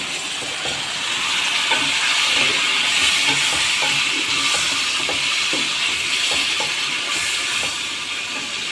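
Pre-fried chicken pieces go back into a pan of frying onions, raising a loud, constant hiss of hot oil with faint, irregular stirring clicks underneath.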